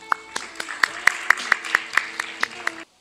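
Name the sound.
audience applause welcoming a speaker at an expo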